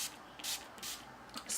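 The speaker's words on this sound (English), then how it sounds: "Spray my face a few times." NYX Matte Finish setting spray misted onto a face, several quick soft hissing spritzes in close succession, quiet and close with no talking.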